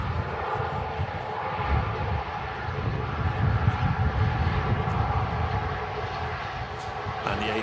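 An ATR 72 turboprop rumbles steadily at Manchester Airport in windy conditions, a broad continuous drone with gusting wind noise, while people talk over it throughout.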